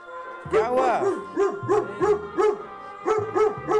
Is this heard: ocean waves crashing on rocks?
no